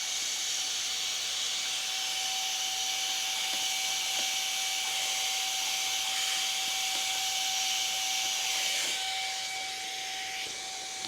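Compressed air blows gunk out of a crypto mining GPU, a steady faint hiss with a thin whine running through it and a few small knocks.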